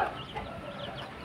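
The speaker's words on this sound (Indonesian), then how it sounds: "Ini koleksi ayam saya teman-teman" Backyard chickens of Bangkok and mangon breeds, recovering from a respiratory illness, cluck softly in a brief, faint burst from a short distance.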